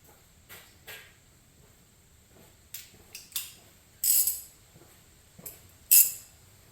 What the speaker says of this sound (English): let me get that head bolt back out of there